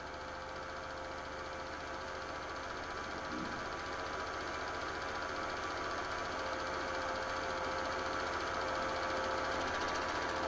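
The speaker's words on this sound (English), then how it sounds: "This is the first ever run of the Chevrolet Impala of Norm Beachy at Calder during practice." A 1960s Chevrolet Impala touring car engine runs during practice at Calder, a steady, continuous mechanical drone heard at a distance with no break or change in level.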